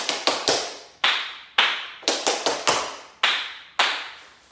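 Tap shoes strike a hard floor during tap dance pull backs: about a dozen crisp, close metallic clicks in quick clustered pairs and triplets separated by short pauses, with no talking.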